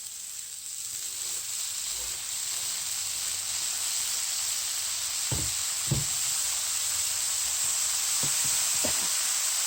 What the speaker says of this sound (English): And now add the cut leaves.